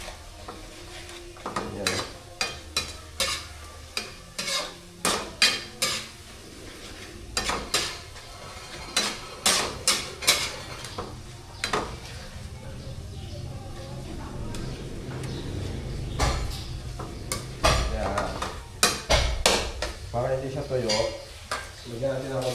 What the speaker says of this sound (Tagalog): Ma-mash mo lang yung yung kamatis para madurog